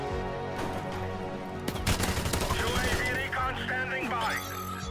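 The RPD light machine gun in Modern Warfare Remastered fires loud, rapid sustained bursts in a video game, with dense overlapping shots and in-game chatter under the gunfire.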